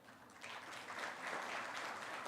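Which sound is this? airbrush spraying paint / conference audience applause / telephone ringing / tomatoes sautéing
conference audience applause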